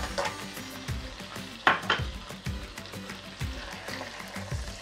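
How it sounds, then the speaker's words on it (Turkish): Butter and dark chocolate melting in a pan are stirred with a spoon, scraping and sizzling softly in close, irregular strokes with a few sharper clinks against the metal. "Eriyene kadar karıştırıyorum."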